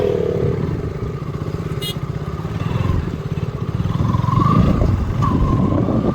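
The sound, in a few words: KTM motorcycles riding past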